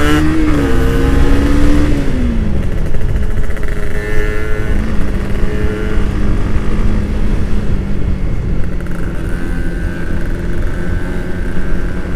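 A Kawasaki Ninja R motorcycle engine revs loudly and steadily up close, its pitch rising and falling through throttle blips with a continuous roaring exhaust.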